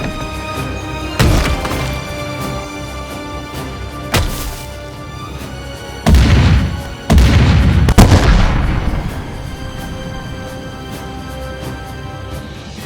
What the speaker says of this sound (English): Obviously, we have cannon firing sounds, which is, the bulk of the collection